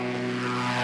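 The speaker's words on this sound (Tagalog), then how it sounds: "Malalamigan ka rin daw, pati sa pagsakay ng ultralight." An ultralight airplane's engine drones steadily, loud and close, a continuous propeller hum with strong harmonic tones that does not break.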